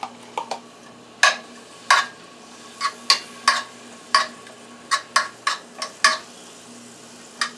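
Chopped onions browning in a pan, heard as a dozen or so sharp, irregular spatula scrapes and taps against the pan over a faint, steady sizzle.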